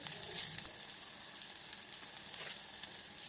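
Dried red chillies, garlic and cumin sizzle steadily in a hot pan as they deep-roast for Mandya-style uppusaru, a soft continuous crackle close by with faint stirring and no voices.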